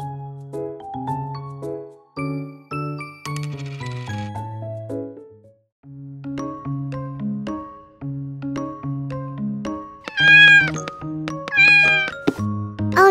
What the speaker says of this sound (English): Tom, you are a bad cat.